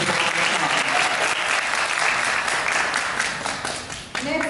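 A graduation audience applauds the nail technology students from a beauty academy with loud, sustained clapping that fades toward the end as a voice begins speaking.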